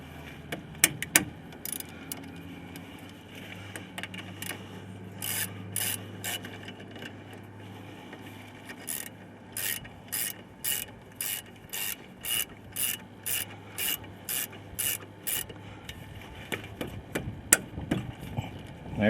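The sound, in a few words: tightening disc brake caliper bolts on a 2002 Ford Ranger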